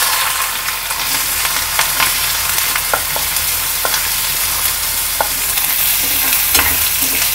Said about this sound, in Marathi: कांदा घालते,